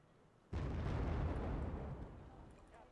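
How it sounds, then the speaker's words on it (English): A bomb in the video game Wargame Red Dragon detonates with a sudden loud boom, then a broad rumbling roar that slowly fades over the next couple of seconds. "See if he'll drop that bomb."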